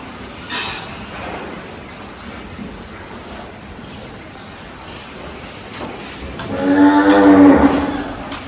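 An old cow at a cow shelter lets out a long, loud moo near the end, after several seconds of quiet outdoor background.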